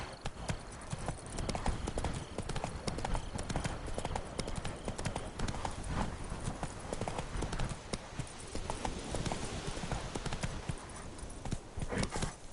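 Roach, the horse in The Witcher 3: Blood and Wine, gallops in a rapid, loud, continuous drumming of hooves, with a faint voice nearby.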